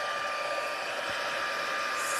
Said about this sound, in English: and the heat tool.